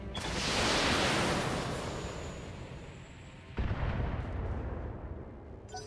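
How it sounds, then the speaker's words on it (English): LRM missile salvo in the BattleTech game, a loud rushing launch roar that swells and fades, followed by a sharp impact burst and a rumbling tail, with no talk. "I can pot shot with the LRMs."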